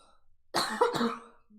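A single short cough breaks out of near silence, a rough double burst close to the listener, then quiet again.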